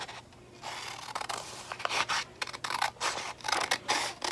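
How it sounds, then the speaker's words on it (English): Scissors snip through folded paper to cut out a heart shape, a series of close, crisp rasping cuts with short pauses between strokes, irregular in rhythm and growing denser toward the end. "So let's cut this out and see how my heart looks."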